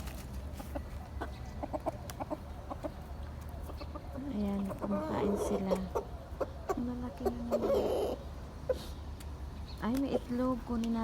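Chickens cluck and call repeatedly while being fed, a busy mix of short clucks and a few longer drawn-out calls nearby, with a person talking over them.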